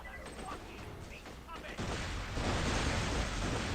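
Explosion of a pocket sun weapon in Borderlands 2 on PS Vita, a dense rumbling blast with crackling bursts that swells and sustains loudly, layered with game effects and voices.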